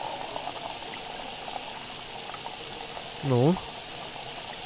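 Water pouring in the cooking game Cooking Simulator: a steady, soft hissing stream runs throughout, with a brief spoken interjection near the end.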